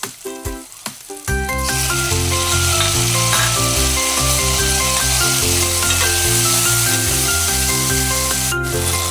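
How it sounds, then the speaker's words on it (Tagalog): Tomatoes sautéing in a pan with garlic and onion for ginisang ampalaya, a steady hiss that starts loud after a few soft knocks and runs throughout beneath prominent tonal background music. "Pagkagisa sa bawang at saka sibuyas, sunod naman igisa yung kamatis."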